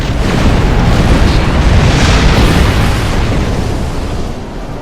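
Torpedo spread explosions in the space game Star Trek Online make a loud, continuous, booming roar that swells in the middle and eases slightly toward the end, with no voices.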